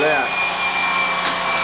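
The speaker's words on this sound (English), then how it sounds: "Robin's going to pre-drill them so we can screw right through the rail into the studs" A power drill pre-drills through a bathroom cabinet rail into the wall studs, a loud, steady high whine held close for its whole length with no voices.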